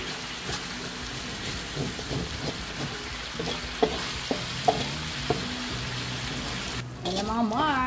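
Adobo sa puti, adobo made without soy sauce, fries in a pan with a steady sizzle broken by occasional sharp clicks of stirring. A voice briefly speaks near the end.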